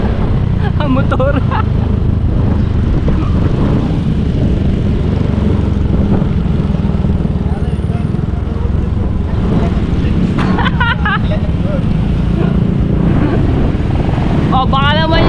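A motorcycle speeding and overtaking, its engine a constant loud roar with heavy wind rush throughout, with brief voices surfacing now and then above the noise.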